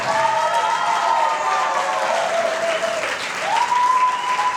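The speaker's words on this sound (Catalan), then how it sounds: "demanem també un fort aplaudiment per la mestra del grup, la Maribel Pérez" Audience applause for a group's teacher at an end-of-year school music concert at Farinera del Clot, a steady wash of clapping filling the room with sustained tones running beneath it.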